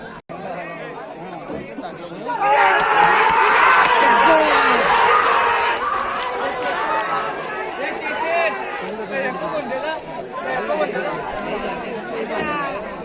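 Dense crowd chatter at a bullock cart race ground: many overlapping voices and shouts swell into a loud, close burst of cheering, then settle into a steady hubbub of people talking.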